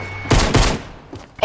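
Two loud, close gunshots go off in quick succession in Fortnite, followed by a fainter shot and another sharp report at the end.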